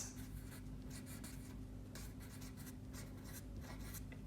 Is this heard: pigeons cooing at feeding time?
no